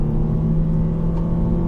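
A 2013 Nissan Juke Nismo engine revving from a standstill and pulling away, a close, steady, rumbling drone with a constant hum throughout a brief moment, without talking.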